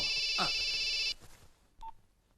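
A telephone rings in a Telugu comedy film scene: a steady electronic ringtone sounds for about a second, then stops, and a brief single beep follows.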